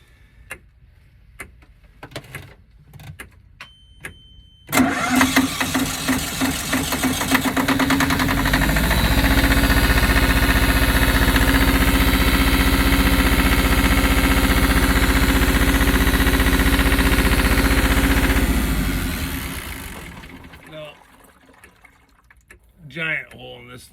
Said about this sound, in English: let's see if this see if this generator will start now without sending a bunch of exhaust into the bilge